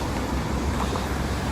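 Steady road traffic noise from passing cars in Plymouth, heard from a bicycle, as a continuous low broadband rumble with wind-like hiss and no clear individual pass-bys.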